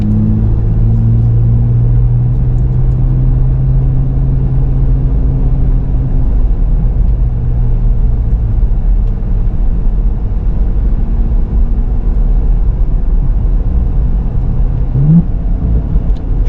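A 2024 Nissan Z Nismo on a race track gives a loud, continuous low engine rumble with exhaust burbles on downshifts and a brief rising rev near the end.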